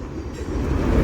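A freight train rolls along the tracks at a railroad crossing on Slover Avenue in Colton, California, a loud steady low rumble with rail noise close by.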